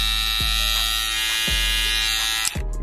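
An electric hair trimmer runs close up with a loud, steady, high-pitched motor buzz, broken by a few slight clicks or dips as it is handled.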